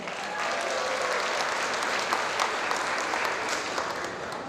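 An audience at a Chinese Community Center anniversary gala gives dense, sustained applause that holds steady and fairly even throughout.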